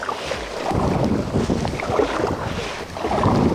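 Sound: inflatable boat moving on water

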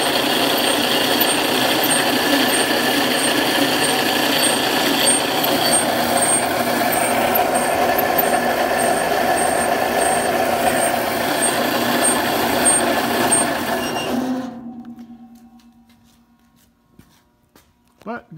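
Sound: rebuilt wine crusher motor running

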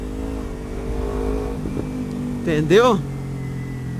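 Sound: Kawasaki Ninja 250 with Jeskap exhaust, no dB killer, downshifting

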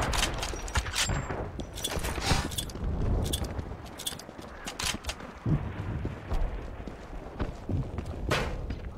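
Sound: gunfire in the video game Wolfenstein 2

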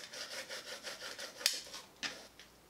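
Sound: scraper rubbing transfer tape onto wood

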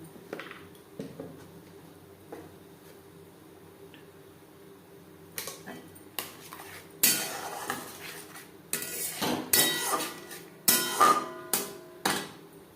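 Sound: stirring and frying spices in pan

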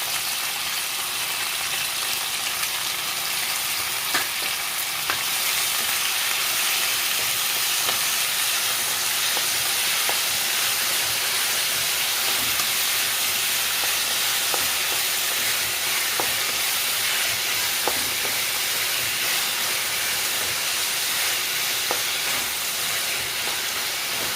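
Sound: onion and tomato frying in oil

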